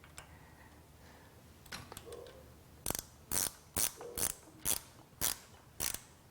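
A ratchet tool ticks while the pinch bolt is run in on a vintage Triumph motorcycle, giving a quiet close series of about eight evenly spaced sharp clicks after a few softer mechanical taps.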